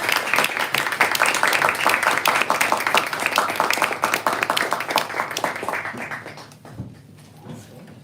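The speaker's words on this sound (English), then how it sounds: "let's give them one more round of applause." A full round of audience applause for poets at a poetry reading, dense and steady clapping that holds for several seconds, then tapers off and stops abruptly, leaving a quiet room.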